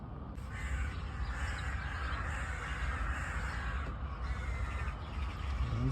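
Crows and magpies call repeatedly outdoors, harsh caws layered over a steady wash of background noise, moderately distant and continuous.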